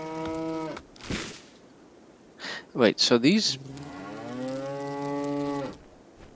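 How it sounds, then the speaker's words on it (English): Bees in the video game RimWorld give drawn-out cow-like moos, a low one and then another, with a short buzzy warble between them and a voice speaking briefly in the middle. "bees make cow sounds but with buzzing in the intermixed."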